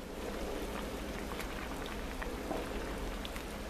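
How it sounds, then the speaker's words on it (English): Shrimp and corn chowder at a fast boil, a steady dense bubbling and popping that runs evenly throughout, close and fairly loud with no talk. "Well, now we have a fast boil."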